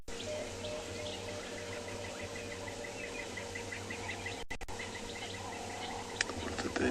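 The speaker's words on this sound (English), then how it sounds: "All of the birds calling." Chorus of birds calling at sunrise on a South African morning safari, many small chirps and trills scattered steadily through a continuous outdoor hum, moderately distant, with no talking.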